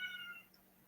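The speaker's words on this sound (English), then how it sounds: "You can hear my cat meowing." A house cat lets out one brief, faint, high meow at the very start, followed by quiet room tone.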